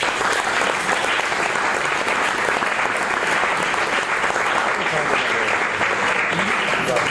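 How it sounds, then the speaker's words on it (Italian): A room of listeners at a book presentation applauds after a speaker finishes, a dense, continuous and fairly loud clapping that holds evenly for several seconds. "Sto applaudendo perché ha finito di parlare."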